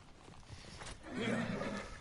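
A horse in the video game Ghost of Tsushima gives a short neigh with light hoof clops, quiet and close, over soft background ambience.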